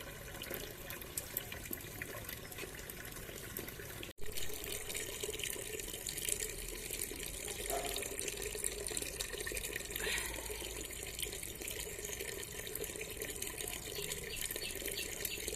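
Hot water pours steadily from a tap during a bath, a continuous broadband rush that stays close and fairly loud after a brief pause near the start.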